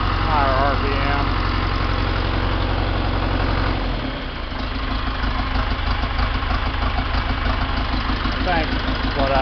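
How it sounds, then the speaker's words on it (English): A John Deere 2030 tractor's diesel engine, suspected of a miss, idling with a knocking low rumble, then dipping briefly before revving to a steadier, higher roar, loud and close. "Let's go ahead and rev it up. Stack clears up under higher RPM."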